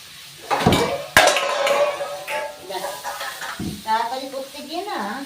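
Shredded cabbage drops into hot oil in a pan with a sharp clatter, followed by a steady sizzle while utensils clink against the cookware; someone talks over it at moments.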